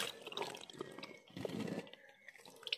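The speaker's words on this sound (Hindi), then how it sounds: "देखिए नीचे से पानी निकलना स्टार्ट हो गई है" Water trickles and drips from the bottom of a potted bougainvillea cutting after watering, a faint, irregular patter and splash heard close and alone.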